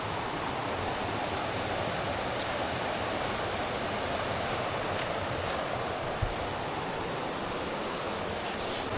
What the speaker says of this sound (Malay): So bawah tu ada sungai.